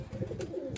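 Soft, low cooing of Sialkoti high-flying breeder pigeons, a few throaty murmurs close by with no talking.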